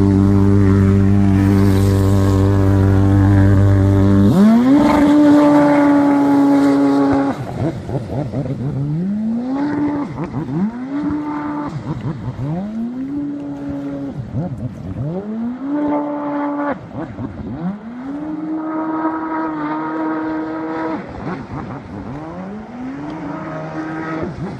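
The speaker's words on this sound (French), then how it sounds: "voici par exemple un jet qui a un moteur modifié avec échappement libre" A jet ski with a modified engine and free-flowing exhaust, first a loud steady roar, then a series of repeated revving surges rising and falling in pitch, each burst loud and close, with no talk.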